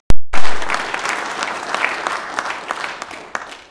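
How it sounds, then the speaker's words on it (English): Audience at a business networking evening breaks into applause after a brief thump, full clapping that gradually thins toward the end. "let's give them a round of applause anyway"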